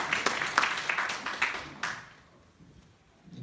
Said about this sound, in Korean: 박수를 한번 쳐주십시오.